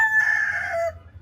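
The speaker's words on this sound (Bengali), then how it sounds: "মোরগ ডাকতেছো কেন?" A rooster crows once, close and loud, in a single drawn-out, bright call lasting under a second. It is followed by a low background rumble.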